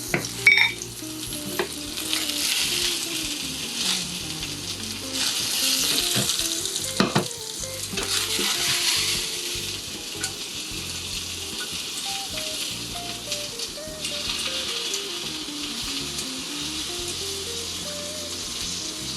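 Mushrooms and udon noodles fry in a pan with a steady, close sizzle and crackle, broken by occasional clatters of stirring; a faint tune plays underneath.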